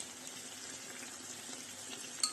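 Chicken drumsticks with sauce just added sizzle and hiss in a frying pan, a steady, fairly quiet crackle with one brief sharper pop near the end.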